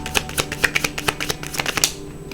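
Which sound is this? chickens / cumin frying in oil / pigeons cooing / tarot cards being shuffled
tarot cards being shuffled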